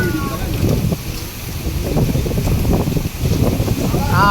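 Strong wind gusting steadily through trees during a rainstorm in Jizan, Saudi Arabia, a loud, continuous roar with rustling and buffeting close to the microphone.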